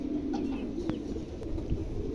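Adult pigeons cooing softly nearby, a few low murmuring coos over a steady background hum, with faint chirps from other birds.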